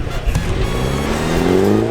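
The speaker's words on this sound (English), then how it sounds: "Twist the car around, accelerate." A BMW is driven hard on a track at a performance driving school, spinning around and accelerating. The close engine roar climbs in pitch, with a faint tire squeal mixed in.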